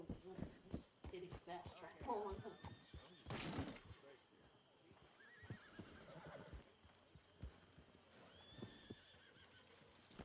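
A horse in Red Dead Redemption 2 whinnies in a few loud bursts near the start and again around the middle, with hoof clip-clops and game ambience between, while a person talks over much of it.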